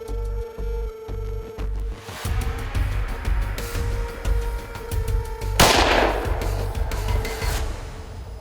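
A rifle fires at a buck during a deer hunt over decoys. Quiet rustles and clicks lead up to one sharp, loud shot that rings out through the open air, with no talking.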